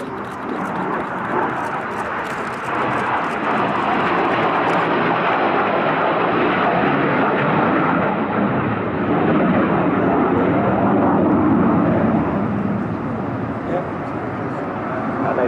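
A de Havilland Sea Vixen jet in Royal Naval Air Service markings passes over an air festival at Bournemouth, its engine roar steady and loud throughout, swelling slightly near the end, with a commentator speaking over it.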